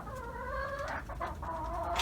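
Hens sit inside a backyard coop near a rabbit shed, giving off a run of soft, overlapping clucks and murmurs that rise and fall close by, with no talking.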